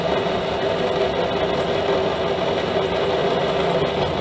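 A mini lathe turns slowly at roughly 150 to 200 RPM, giving a steady, fairly loud mechanical hum and rattle that holds even throughout with no talking.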